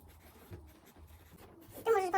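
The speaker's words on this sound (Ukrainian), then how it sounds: "Потім я пишу своє ім'я та прізвище, дату народження" A hand writes a name on a painting with faint, intermittent scratchy strokes heard up close, and a voice comes in briefly at the end.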